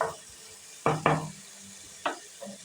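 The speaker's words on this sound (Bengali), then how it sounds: "ভালোভাবে এটাকে কষাবো কন্টিনিউ নাড়াতে হবে না হলে কিন্তু ধরে যেতে পারে" A cashew-based navratan curry with paneer is stirred and sautéed in a pan, with a few distinct scraping strokes of the spoon over a faint low sizzle; no one talks.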